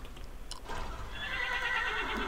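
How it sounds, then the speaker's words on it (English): Horse neighing in modded Minecraft, a game whinny rising after a faint start and holding for over a second with a bright, wavering tone. No speech. "wild horse."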